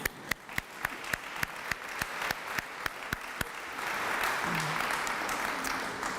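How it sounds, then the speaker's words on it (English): Audience applause for new faculty members at an awards ceremony, starting with a few sharp, evenly spaced individual claps that swell into a broad, sustained round of clapping from the crowd. "They must all be working hard, but we applaud them anyway."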